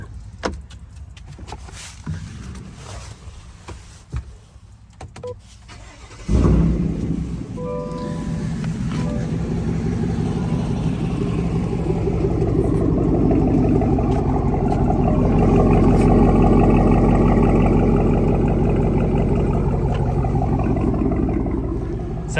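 A GMC truck with dual exhaust cranks after some rattling and door handling, then catches into a deep, rumbling idle that holds loud and steady with no talking.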